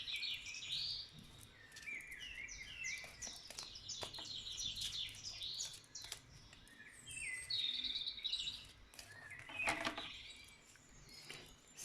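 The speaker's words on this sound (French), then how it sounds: "J'espère que les oiseaux ne chantent pas trop fort pour vous, mais ça fait du bien." Birds singing outdoors, several bright chirps and warbling phrases that come in repeated bursts over a quiet background, fairly close, with no voices.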